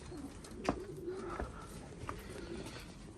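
Pet pigeons coo in a few soft, low, rounded calls, close by and moderately quiet, with short pauses between them and no talking.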